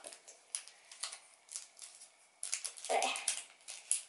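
Plastic packaging around a Chipicao cocoa-cream croissant crinkles and rustles up close in short, quiet bursts, growing louder for a moment near the end as the wrapper is pulled open.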